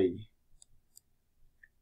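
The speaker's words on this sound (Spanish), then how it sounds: "doy clic en OK" Computer mouse clicks while confirming an OK dialog in ANSYS APDL software, a few sharp, faint, isolated clicks spread out in a quiet room after a brief trailing sound at the start.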